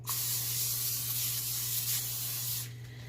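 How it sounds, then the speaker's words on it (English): A steady hiss of cooking spray on foil, lasting about two and a half seconds before cutting off, close and fairly loud. "I'm going to spray my tin foil."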